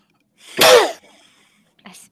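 A single loud, close sneeze from a player during a tabletop role-playing game session, a sharp explosive burst with breathy noise, followed by a brief faint breath.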